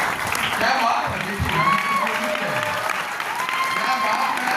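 Loud, dense clapping from a large audience at a Mumbai speech event in honour of a yoga group, continuous throughout with a voice speaking over it.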